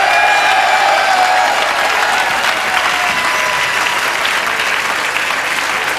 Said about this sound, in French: je pense qu'on peut les applaudir